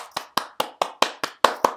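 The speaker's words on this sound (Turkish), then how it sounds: "Alkışlıyorum seni helal olsun" Eight sharp hand claps in a steady, even rhythm, fairly close and crisp, with no voices.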